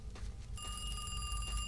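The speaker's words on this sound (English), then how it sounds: "Pick up the phone." A telephone rings in a Squidward video game, a steady electronic bell tone that starts partway through and keeps going over background game noise.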